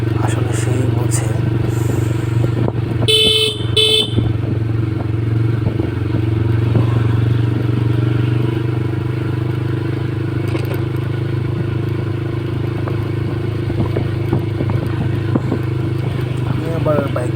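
A motorcycle cruising at a modest 30–35 km/h gives a steady, close engine drone with rattly clatter, continuous for the whole stretch, while someone talks over it.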